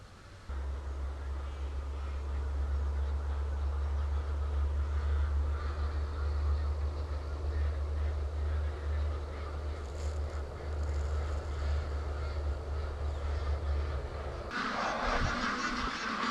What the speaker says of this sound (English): Oh, the poor ducks are going crazy wanting out here.